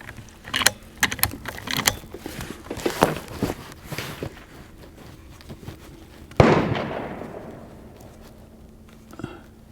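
Sharp gunshot cracks from a Marlin 39A rifle fired at targets outdoors, several scattered reports in the first half followed by one louder close shot with a long decaying echo.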